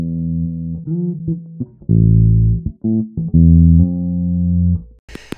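A sustained synth bass, its stereo width narrowed to mono, plays a series of held notes with stepping pitch changes, loud and alone, without any voices.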